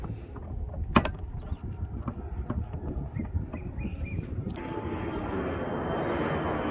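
A fixed-wing airplane passes near an airport, heard from aboard a docked Grady White 325 Freedom boat: a steady low engine roar that swells into a broad, rising rush in the final seconds, with a couple of faint clicks earlier.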